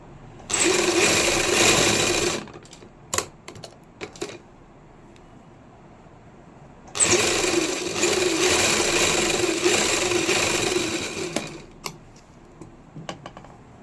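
An electric sewing machine runs in two steady bursts while stitching the lining of a kameez, whirring close up, with a few light clicks and fabric handling in the pause between runs.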